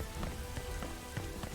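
Rain falls steadily in Dynasty Warriors 8 Xtreme Legends during the Battle of Fan Castle, a constant close patter of drops on surfaces with a few sharper splashes and no voices.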